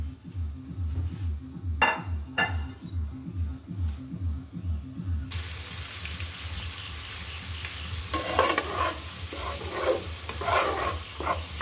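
Whole spices, namely bay leaves, black peppercorns, cloves, cardamom and cinnamon, frying in hot oil for khichuri: a steady close sizzle with occasional scraping and clinks, growing denser and louder midway.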